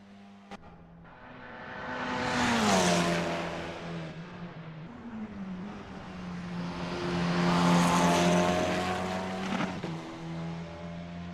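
A Formula 4 single-seater race car at Bathurst, simulated in Assetto Corsa, on a practice out lap with its engine note rising and falling through two long acceleration sweeps and gear changes, steady and moderately close.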